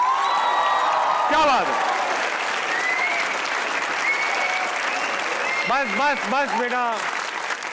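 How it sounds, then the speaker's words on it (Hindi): Studio audience of the Pakistani TV comedy talk show Hasna Mana Hai keeps up sustained, full applause with some cheering while the host talks over it. "तो बजाइए तालियां"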